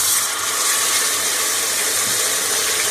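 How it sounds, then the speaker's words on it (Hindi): Half a cup of water poured into ginger-garlic paste and onions fried in ghee, a continuous loud hiss and sizzle of steam lasting the whole three seconds, with no talk over it. "अब मैं हाफ कप पानी डालने लगी हूँ"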